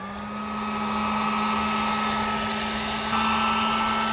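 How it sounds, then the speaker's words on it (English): A heat gun blows a steady, loud electric whir with a constant hum while melting shrink wrap during a power running board install on a Ford F150 Lightning, rising slightly at the start and continuing unbroken. "I'm going to need to activate my heat gun to melt this shrink wrap"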